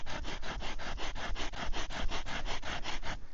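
Rock edge scraped back and forth across a wooden bow-drill fireboard to carve a notch, a steady rhythmic rasp of about a dozen strokes, close and loud, with no talking.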